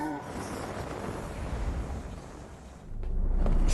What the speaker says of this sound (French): Explosion d'énergie plasma!